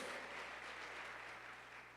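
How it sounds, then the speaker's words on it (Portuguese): Church congregation applauding during a Portuguese-language sermon, a steady, dense wash of clapping held at a fairly even, moderate level from start to finish with no voices over it. "Aplauda Jesus."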